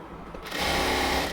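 A sewing machine runs a half-inch stitch around the waistband of a cut cotton salwar, starting after a brief moment of handling noise and then whirring steadily and close up to the end.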